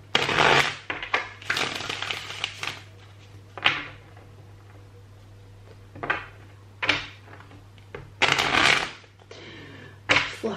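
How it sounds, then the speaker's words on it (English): Tarot card deck being shuffled by hand, a series of close papery riffles and slaps in irregular bursts separated by brief quiet gaps. "I'll just give the deck a wee shuffle here."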